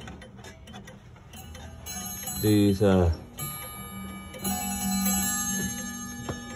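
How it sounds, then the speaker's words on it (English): A grandfather clock's bell chime rings out clearly, with sustained ringing tones that decay slowly and resonant strikes, while someone speaks briefly nearby. "this doesn't only play a Westminster, but you see this also has other chimes as well"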